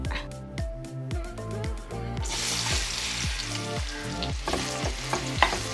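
Two tablespoons of coconut oil heating in a pan on the stove, a steady close crackling sizzle joined by rhythmic repeated scraping strokes, with no talk.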